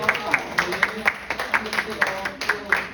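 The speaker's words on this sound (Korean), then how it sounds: "우리 미리 오늘 공예배 때 받는 친구들 축하의 박수 한번 드립니다" A youth congregation at a Korean church service claps in congratulation for students receiving baptism, a short run of regular, fairly loud claps in a steady rhythm with a voice heard alongside.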